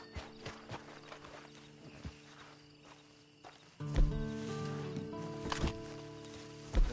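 Horse hooves clip-clop in Red Dead Redemption 2, a few scattered steps at first, then a louder, closer run of footfalls over a steady ambient bed with soft musical tones.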